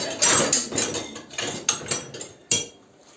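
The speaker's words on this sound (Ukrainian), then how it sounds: "Щіпку солі і будемо збивати білки, аби зверху там заливати" A metal whisk beats six egg whites with a pinch of salt in a bowl for a one-layer baked cake, making a run of sharp, uneven clinks and taps against the bowl, close and fairly loud.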